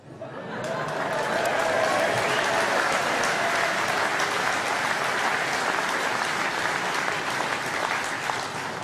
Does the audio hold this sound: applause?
yes